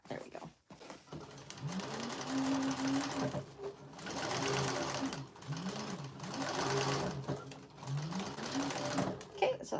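A sewing machine top-stitching a bowler bag, running in several sustained bursts with short pauses between them, its motor whirring up and down in pitch while someone talks over it.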